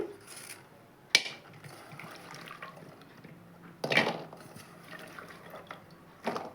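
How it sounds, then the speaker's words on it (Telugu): Chopped beans drop into a pot of water with a few splashes and clattering knocks, separated by quieter stretches of faint handling noise. "మరి ఇప్పుడు నీళ్ళలో వేసి ఉడికించుకుందామండి"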